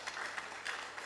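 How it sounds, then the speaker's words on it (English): An audience at a Rastafari conference applauds a speaker with steady, dense clapping that stays even and moderately loud throughout the short moment. "let's applaud him."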